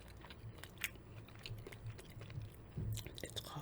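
Close, quiet chewing and crunching of a spicy red pepper salmon meal from Whole Foods, with repeated soft bites and wet mastication sounds in an ASMR-style recording and faint background noise.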